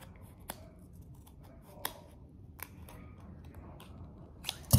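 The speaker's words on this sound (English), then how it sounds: "Do a little bit of trimming, make it more even." Scissors trim a model rocket fin in a few sparse, crisp snips spaced about a second apart, close and fairly quiet, with a louder burst of handling at the very end.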